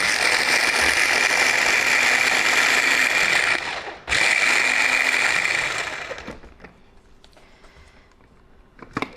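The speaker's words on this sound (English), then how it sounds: "this is a little Hamilton Beach food processor I got from Walmart" A small Hamilton Beach food processor chopping vegetables whirs loud and steady, cuts out briefly, restarts, then winds down to quiet with faint clicks at the end.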